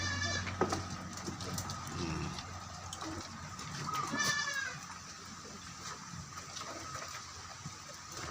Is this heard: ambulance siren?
no